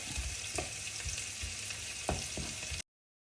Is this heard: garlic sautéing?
yes